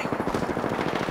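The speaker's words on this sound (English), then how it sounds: "Firing!" Rapid automatic gunfire from a Spitfire in Apex Legends gameplay rattles out in a loud, dense burst that fills the whole moment.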